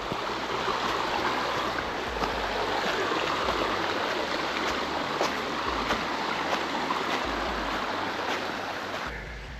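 Runoff from a backyard pond pours and rushes in a loud, continuous wash of flowing water heard close up, steady for the whole stretch with no voices.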